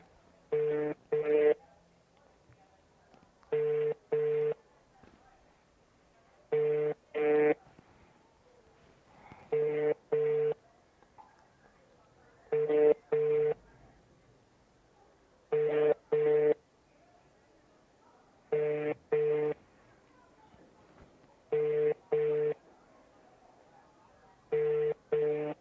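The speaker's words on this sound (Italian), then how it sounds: "telefone turamuhamagaye Bishop Nyirimeta Anastase" Telephone call being placed and ringing, paired ring bursts repeating at a steady interval of roughly three seconds, loud and clear over a quiet background with no talking.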